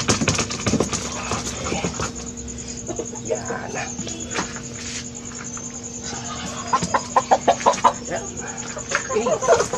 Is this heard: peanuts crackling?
no